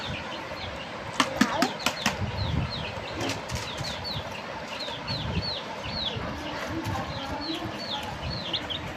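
Baby chicks chirp repeatedly in quick high peeps, near and fairly loud, with a burst of scuffling and pecking early on and faint voices in the background.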